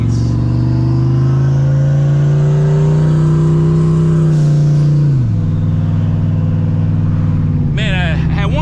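A Ford SN95 Mustang engine runs loud and steady while driving, its pitch rising gently then dropping back around the middle, with a brief surge near the end.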